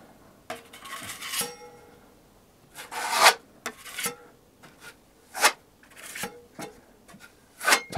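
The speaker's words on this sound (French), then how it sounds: "Maintenant, j'utilise la grande spatule pour lisser" A large spatula scrapes and smooths filler across a wall in short, repeated rasping strokes with quiet gaps between them, close by and moderately loud.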